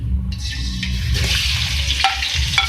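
Half a kilo of chicken frying in hot oil for dahi chicken karahi, a loud, continuous close sizzle with a low rumble, broken by a few stirring scrapes and clinks; no one speaks.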